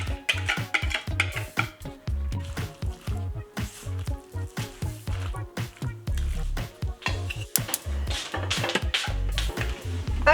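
Papaya ukoy batter tinted with annatto powder being stirred in a bowl, a busy run of quick wet scrapes and clinks of utensil against the dish, fairly close.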